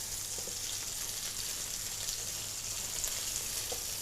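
Meatballs frying in hot oil, a steady, even sizzle with faint crackles and occasional spits, close and continuous with no talking.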